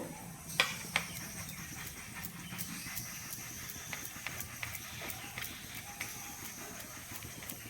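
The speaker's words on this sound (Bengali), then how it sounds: "পনিরটাকে প্রথমে আমি গ্রেড করে নেব" Paneer being grated by hand, quiet rhythmic scraping strokes against the grater with a couple of sharper knocks near the start, close and steady with no talking.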